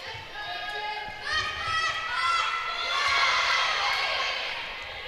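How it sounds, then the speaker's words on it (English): A netball team's bench cheers and shouts encouragement to its players during an Ireland v Emirates Netball Europe Open Challenge match, with crowd voices rising and swelling in a continuous, lively wash of sound. "It's nice to hear the Emirates bench cheering their players on."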